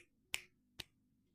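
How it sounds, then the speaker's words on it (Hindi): Two sharp finger snaps about half a second apart, close and clear against a quiet room, made during a home devotional routine before a curtain is opened. "अब हम पहले चुटकी बजाएंगे या फिर ताली बजाएंगे"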